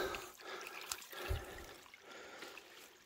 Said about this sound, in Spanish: No veas el rochuelo que va bajando de agua cada vez más.